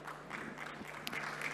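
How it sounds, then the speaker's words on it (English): Conference audience applauding as panelists are welcomed at a fintech and SME finance panel, a brief continuous patter of clapping from a crowd. "Let's welcome them with a round of applause"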